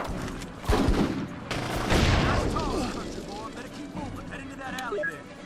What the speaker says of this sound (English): يطلقون النار علينا